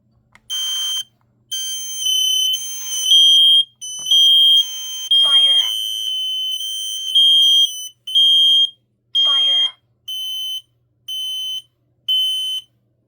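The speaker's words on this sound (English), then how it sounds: "Next alarm we're going to test is the Kidde P12040." A Kidde P12040 smoke alarm sounds during a test, giving a loud, shrill repeating beep in regular bursts with short gaps, close by, with brief faint voices or noise between some bursts.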